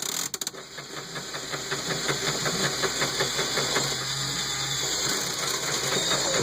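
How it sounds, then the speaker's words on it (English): A small Lego electric motor driving a 10-speed Lego transmission in eighth gear, grinding and straining close to stalling. The whirring holds steady and loud with a fast, rough pulsing rhythm throughout. "that's all we need to almost stall the motor"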